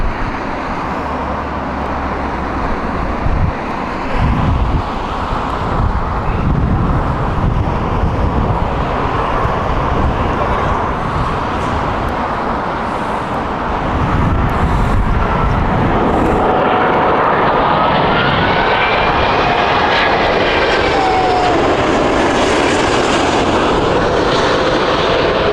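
An airliner on a Dallas flight passes at Heathrow, a loud, close jet roar building and sweeping past with a rising whine over the second half, continuous with no talk.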